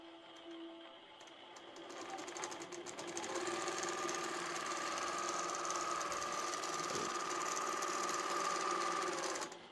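Innova longarm quilting machine running on its AutoPilot system, stitching a border: a steady, continuous mechanical whir and rapid needle chatter that rises in intensity after a few seconds and holds level, close and alone without talk.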